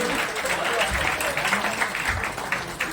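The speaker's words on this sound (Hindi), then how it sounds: "जोरदार ताली बजनी चाहिए।" Loud, sustained clapping fills the room as a crowd at a political party meeting applauds, a dense steady patter lasting the whole three seconds.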